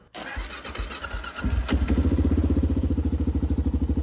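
A 2008 Kawasaki KLR650 motorcycle engine cranks briefly on choke, catches with a sharp rise, then settles into a loud, steady, rapidly pulsing idle close by.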